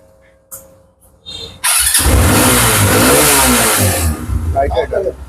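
A Night Rider motorcycle engine catches after a few short clicks and squeals, then revs hard in a loud sustained roar before settling into a rough idle, with people talking nearby.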